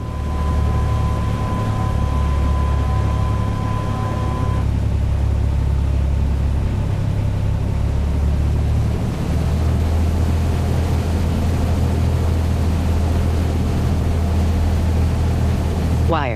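A Cessna 182 engine idles in a flight simulator cockpit, a steady low drone with broadband airflow hiss running throughout, loud and continuous, with a brief faint tone early on and no talking.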